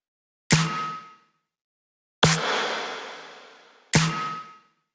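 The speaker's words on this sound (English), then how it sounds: "So those are two totally different snares now going back and forth." Two layered snare drums with reverb alternate in Ableton, giving three sharp hits with no talk: a short one, a longer hit with a drawn-out reverb tail, then another short one.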